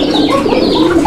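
Pigeons, a breeding pair of male and female, coo steadily up close, their low throaty calls rolling continuously and overlapping with no pauses for about a second.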